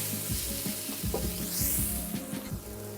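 A spoon stirs turmeric into a sizzling pan of gravy for meatballs and spaghetti, rhythmic scraping strokes over a constant close frying hiss, no voices.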